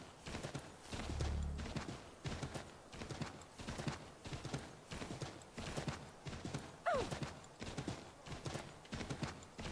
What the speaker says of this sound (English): It's the fastest the horse goes.